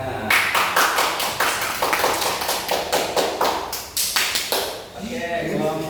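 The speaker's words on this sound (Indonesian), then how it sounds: "Tepuk tangan." Classroom applause from students after a presentation in an Indonesian vocational lesson, several seconds of close, uneven group clapping with individual sharp claps standing out, fading near the end as a voice starts talking.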